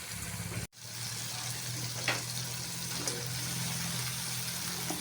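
Vegetables added to potatoes and dried fish frying in a pan produce a faint, continuous sizzling hiss with a low background hum, broken by a brief dropout and a couple of soft stirring scrapes.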